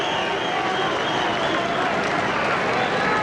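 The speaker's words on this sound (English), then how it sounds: "Hernandez going around, getting a round of applause from the fans" A boxing crowd applauds the fighters at a 1994 Kostya Tszyu vs Angel Hernandez bout. Dense, steady clapping and crowd roar fill the arena, with a voice talking faintly underneath.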